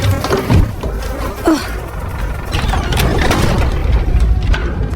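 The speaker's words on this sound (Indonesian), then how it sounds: "tiba-tiba heran saat mendapati lalat hinggap di kacamatanya" A fly buzzing in a dark, foul-smelling basement scene of a horror film, a steady droning hum with brief louder swells, close and continuous, with faint background noise and no talk.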